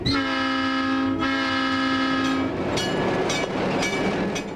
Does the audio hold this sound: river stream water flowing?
no